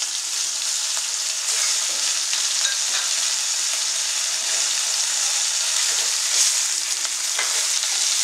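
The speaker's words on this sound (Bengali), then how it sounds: "ইলিশ মাছ অল্প তেলটা দিয়ে মাথাগুলোকে ভালো করে ভাজবো" Large hilsa fish heads, cut from a fish of about 1.2 kg, fry in a little oil, giving a steady, dense crackling sizzle that runs without a break.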